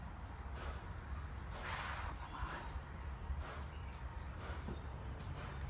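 A mare in difficult labor breathes heavily, with steady broadband huffs and snorting exhalations repeating every second or so at close range, over a constant low background rumble.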